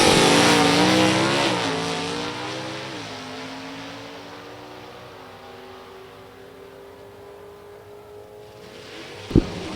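A drag race launch with a 1994 Camaro automatic and a GT automatic car, loud engines roaring and droning as the cars pull away and fade into the distance, then a sharp thump near the end.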